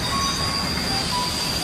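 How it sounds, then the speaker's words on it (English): A 1926 steam train pulls into Dessau station with a steady loud rumble and a faint high wheel squeal, with no voices heard. "On December 4th, 1926, a steam train pulled into Dessau station."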